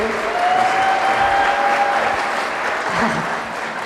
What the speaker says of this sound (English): Please give a round of applause for Dr. Carol Rosin.